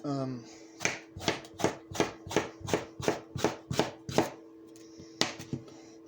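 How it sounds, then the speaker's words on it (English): A knife chops rapidly on a cutting board, about a dozen crisp, evenly spaced strikes, with a brief voice just before they begin. "Let's show off some chopping skills"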